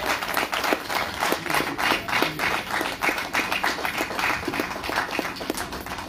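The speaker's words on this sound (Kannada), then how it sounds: "ಬರಲಿ ಜೋರು ಚಪ್ಪಾಳೆ." Loud, sustained applause from a crowd at a movie poster launch press meet, dense clapping with a few sharper individual claps standing out, no voices on top.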